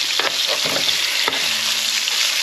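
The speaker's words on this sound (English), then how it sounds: "look at that crust on there. A little bit of sear." Tuna searing in hot oil in a pan, a loud close continuous sizzle and crackle with a few sharper spits, no voices over it.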